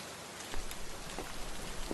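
Steady rain falls through a dark night, a continuous soft hiss of drops with a few slightly louder patters, fairly faint and with no voices.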